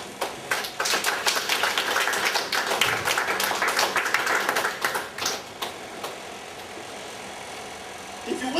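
Congregation clapping hands during an evangelistic service at a halfway home in Singapore, a dense, loud stream of claps that thins out toward the end, with faint voices underneath.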